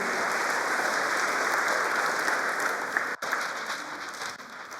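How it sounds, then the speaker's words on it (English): Church audience applause rolls on steadily, a thick wash of clapping at even loudness with a brief dip near the end. "Give a round of applause for Didier and Danny."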